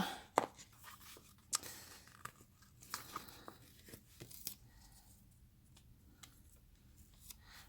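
Paper cut for a weekly planner, with faint close scissor snips and rustling in a quiet room, irregular soft crunches spread throughout.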